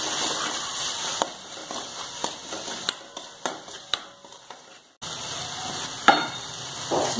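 Tomato, ginger, green chili and spices fry in a pan, giving a steady close sizzle broken by clicks and scrapes of stirring, with a brief pause before the frying resumes.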